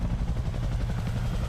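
Helicopter rotor noise in a video game, a steady low throbbing drone with rhythmic chopping pulses that stays loud and constant throughout, with no talk over it.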